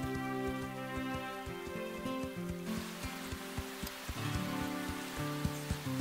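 Steady rain falls outdoors in a cartoon scene of a horse-riding show, a constant hiss of drops that sits under a low sustained musical drone with rhythmic pulses; no voices.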